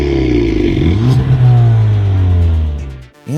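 A car engine revs loudly through a turbo-back performance exhaust, pitch climbing and holding in a deep throaty roar before cutting off abruptly near the end.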